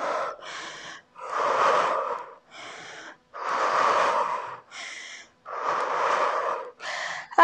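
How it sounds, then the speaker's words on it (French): Heavy, forceful breathing during a home HIIT workout: loud, close gasping inhales and exhales in a steady rhythm of long and short breaths, with no talking. "Allez, soufflez bien."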